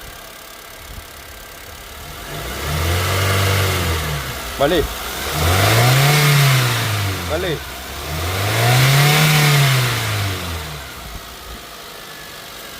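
A 2018 Honda Amaze engine idles, then revs up and back down three times in smooth swells. A voice speaks briefly between the revs.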